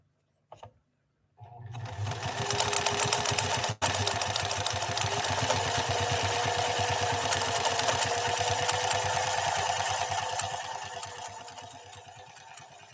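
Pfaff 332 sewing machine running a decorative stitch pattern from the single-needle side, a steady fast mechanical whir with dense rapid needle clatter, close and loud, starting after a brief click and holding for about ten seconds before easing off.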